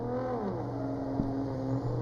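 A drift car at Orange Show Speedway accelerates up the wall during a drifting qualifying run, its engine roaring loud and steady as the revs climb, with no talk over it.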